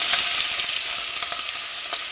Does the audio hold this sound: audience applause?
no